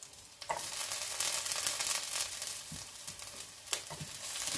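Garlic, added to onion already in the pan, fries with a soft, continuous sizzle and a couple of faint scraping stirs, fairly quiet and close, with no talking.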